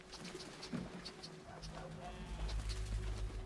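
Pigeons or doves coo and flutter in a video game as they are startled, soft repeated calls over low rumbling game sound, with a voice talking.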